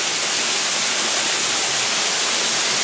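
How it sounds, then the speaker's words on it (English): A waterfall along a backwoods hiking trail roars as a dense, steady broadband rush, loud and unbroken with no voices over it. "So there is the waterfall"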